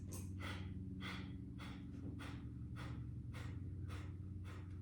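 Kapalabhati yoga breathing during a yin practice session: a steady series of about nine sharp, forceful nasal exhalations in a regular rhythm, close and clear over a low, constant background hum.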